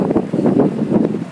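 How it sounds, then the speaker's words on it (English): Wind buffets a handheld microphone outdoors during a walkaround of a 2006 Cadillac DTS Luxury III at an auction lot, in loud, close, pulsing gusts. "Windy, sorry."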